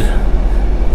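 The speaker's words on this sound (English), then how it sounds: "We're on the train to St. Ives." Interior of a train riding to St. Ives in Britain: a loud, steady low rumble of the carriage in motion, heard close for a brief moment.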